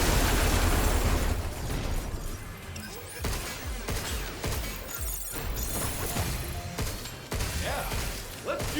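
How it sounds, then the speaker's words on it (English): Gunfire and blasts in the video game Pragmata as an enemy is shot in its core, dense overlapping bursts and crashes running continuously at fairly loud level. "Shoot this guy in the core."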